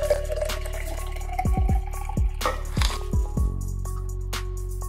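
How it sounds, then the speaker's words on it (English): Hibiscus mocktail being strained and topped up with soda water: a few liquid pours and drips followed by a string of short, bright splashes and clinks close by, with no talk. "I'm going to strain this into here and we're going to top up with soda water"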